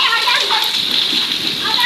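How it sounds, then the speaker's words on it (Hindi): Heavy storm rain pours down in a dense, loud, continuous hiss, close and unbroken throughout. "देखिए गाइस कितनी शदीद बारिश हो रही है।"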